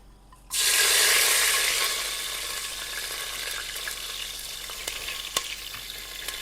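Green chili, cumin, garam masala and bay leaf hit hot oil with a sudden loud sizzle that eases into steady, close frying crackle with a few small pops.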